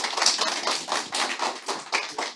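A conference audience claps after a talk, a dense patter of many hands rising and falling in uneven waves, fairly close and moderately loud.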